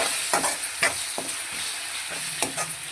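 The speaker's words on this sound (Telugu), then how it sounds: "కొంచెం పసుపు వేసుకొని కలుపుకోవాలి" Turmeric being stirred into a cooking mixture in a pan, with several distinct scraping strokes of a spoon against the metal over a soft steady sizzle, close and fairly quiet.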